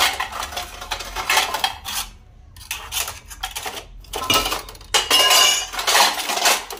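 Tea being mixed in a pot with a ladle, metal scraping and clinking against the pot in repeated loud, close strokes with brief pauses between them.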